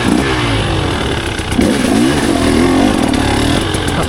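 A 2024 KTM 300 XCW two-stroke dirt bike revving hard while being ridden, a loud close buzzing engine that rises and falls in pitch with the throttle, steady throughout.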